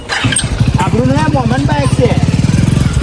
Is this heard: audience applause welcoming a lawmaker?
no